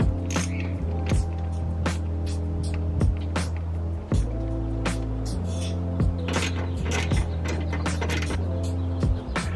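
A socket wrench loosens the battery hardware on a 2019 Toyota Tacoma, ratcheting in quick clicking bursts with a low hum underneath, close and clear with no talking.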